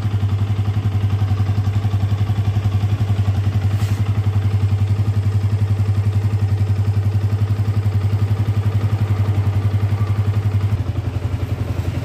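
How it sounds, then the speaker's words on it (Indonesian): A 2012 Yamaha Vixion motorcycle engine idles steadily and loudly up close, a smooth continuous thrum with a faint mechanical clatter throughout and no voices. "teman-teman bisa dengar suara mesinnya masih gurih, hampir nyaris sempurna lah"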